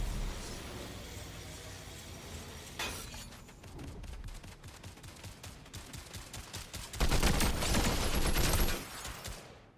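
Gunfire in the video game Fortnite, with scattered shots building into long rapid bursts that grow loud and dense near the end before cutting off.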